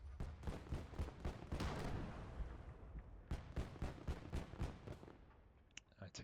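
Gunfire aimed at an AA gun in the World War II game Gates of Hell, rapid bursts of heavy sharp shots in quick rhythmic volleys, with a short pause between bursts and faint clicks at the end.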